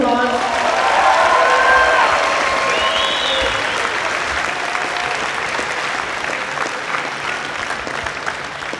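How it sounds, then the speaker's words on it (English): A school audience at a Kindness Week assembly applauds a local police officer, loud, dense clapping bursting out at once and then gradually thinning and fading over several seconds. "Can we give him a nice round of applause?"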